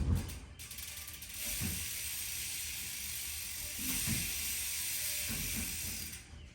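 A Trek Roscoe's Bontrager freehub with 108 points of engagement ratchets as the wheel coasts, giving a dense, rapid buzzing tick that runs almost continuously, swelling slightly in a few bursts.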